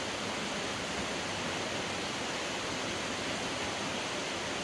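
A steady, loud rush of falling water from an Oregon waterfall fills the whole stretch as an unbroken broadband roar, with no voices.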